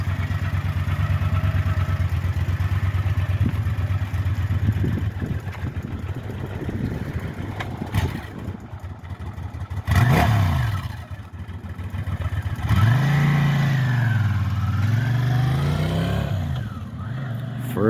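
A freshly restored vehicle's engine runs on its first test ride, idling and revving with rising and falling pitch sweeps as it pulls away and returns, with voices talking intermittently over it.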